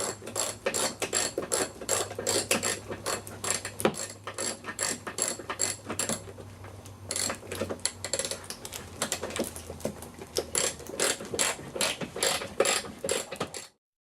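A ratchet clicks rapidly and steadily while a bolt is tightened during a timing belt replacement on a 1.8T AEB/ATW engine, close and crisp, in repeated bursts of quick pawl ticks with brief pauses, then stopping abruptly.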